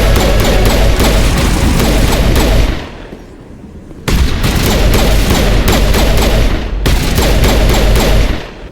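Loud, dense automatic gunfire from the video game Mass Effect Legendary Edition rattles in long sustained bursts, broken by a couple of brief lulls before the shooting resumes.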